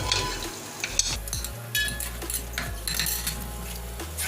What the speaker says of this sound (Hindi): थोड़ा सा फ्राई करेंगे